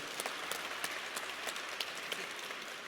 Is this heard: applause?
yes